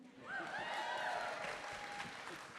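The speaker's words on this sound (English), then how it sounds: "I'm going to need y'all to clap and cheer and holler as loudly as you" A live theater audience claps and cheers together, a broad wash of applause with a few whoops rising above it, fairly distant and moderate in level, keeping up steadily throughout.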